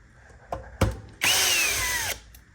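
A power drill whirs steadily for about a second while backing screws out of an Xbox Series S console, preceded by a couple of sharp clicks and knocks, loud and close with no talking.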